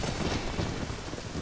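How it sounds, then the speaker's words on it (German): Steady, dense rain with a low rumbling undertone in Zelda: Ocarina of Time, a constant wash of falling water with no voices over it. "Alter, warum regnet's denn hier?"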